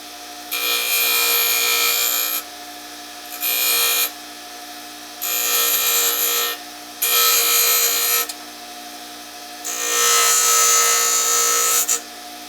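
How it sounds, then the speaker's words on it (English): A bench grinder works grippy marks into a metal bottle cap impressing tool in five bursts of harsh, loud grinding, each one to two seconds long, separated by short pauses over a constant low motor hum, with no speech. "You can grind some"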